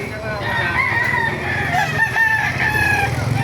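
Chickens cluck and a rooster crows amid the busy din of a poultry market in Baliuag, Bulacan, Philippines, with people talking nearby.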